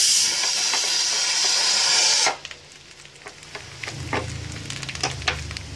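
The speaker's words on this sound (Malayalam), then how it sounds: "നമ്മളിവിടെ തേങ്ങ വറുത്തുകൊണ്ടിരിക്കുകയാണ്." Grated coconut frying in ghee in a pan for payaru parippu payasam, a loud steady sizzle and hiss that drops off sharply partway through, followed by quieter crackles and scraping stirs.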